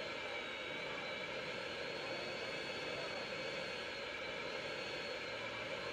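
An airplane's engine in flight in the video game GTA San Andreas: a steady, loud, continuous droning roar with constant pitch, unbroken throughout, no audible voices.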